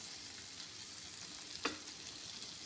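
Beaten eggs, unsalted, hit a hot pan and sizzle steadily and softly, with one brief sharper crackle partway through; no voices.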